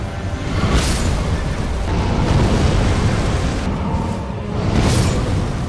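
Heavy booming fire eruptions from the Fire Giant boss battle in Elden Ring, a dense continuous roar with swelling whooshes and rumbling bursts, loud and close throughout.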